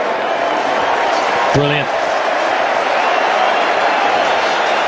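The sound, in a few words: cricket crowd cheering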